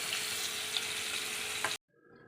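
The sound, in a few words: frying chicken pieces one by one in a pan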